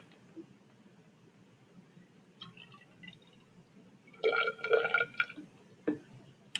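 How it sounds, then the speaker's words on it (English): Distilled water is poured into a styrofoam calorimeter cup: a few faint drips and taps, then a short gurgling splash of liquid, followed by a couple of light knocks in a quiet room. "So I'm going to add some distilled water to this."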